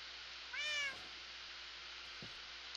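A cat in the Minecraft video game gives a single clear meow, rising and falling briefly against a quiet background hiss, followed by a couple of faint soft clicks.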